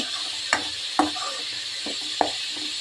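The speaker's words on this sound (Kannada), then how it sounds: "ಈ ಕಡೆ ನೋಡಿ, ಮಸಾಲೆ ಕುದೀತಾ ಇದೆ" Spiced masala for a country-style chicken dish with fenugreek leaves bubbles and sizzles in a pan, a steady low hiss broken by three sharp spoon knocks and scrapes against the pan, with no voices.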